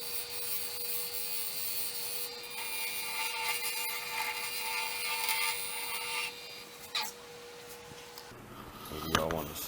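An abrasive tool grinds steadily against a handmade ring, sanding and rounding over its edge. The rasping whir runs continuously for several seconds, then shifts and fades into softer handling sounds near the end.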